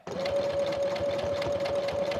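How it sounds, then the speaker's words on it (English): A sewing machine stitches through canvas fabric in a fast, steady whirring run with a constant mechanical hum and rapid needle ticks, close and alone. "headed to my sewing machine"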